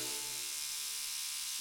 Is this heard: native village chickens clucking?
no